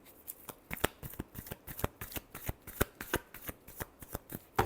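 Close, quiet hand shuffling of a tarot deck, with sharp papery card slaps in a quick, slightly uneven rhythm and no talking.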